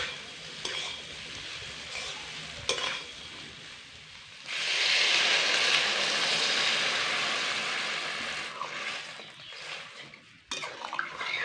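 Fried soybean chunks and potatoes stirred in a pan for a Bengali aloo soyabean curry. Scraping and clinking of utensil against pan come first, then a sustained loud sizzle rises midway before fading back into scattered stirring clatter.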